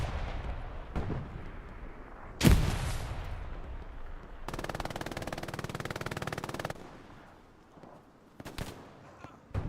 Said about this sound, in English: TJ hears the MG42 go off